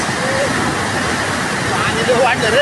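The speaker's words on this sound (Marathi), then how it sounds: "हा पाणी वाढले बघा. पाणी भरपूर वाढले." Floodwater surges over a small dam near Moshi and Chimbali outside Pune, carrying water hyacinth, a loud steady broadband roar close by, with a voice speaking over it now and then.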